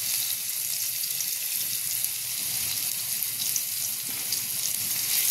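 Garlic frying in melted butter in a pan, giving a steady hissing sizzle that stays even and close throughout without talk.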